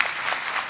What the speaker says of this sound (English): let's give a big round of applause to the panel